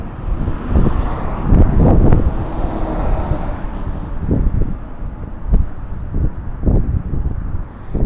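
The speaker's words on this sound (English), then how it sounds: "Now it's starting to get breezy." Wind buffets the microphone while driving over the Arthur Kill near Elizabeth, New Jersey, a loud, continuous rumbling roar with gusty surges and thumps throughout.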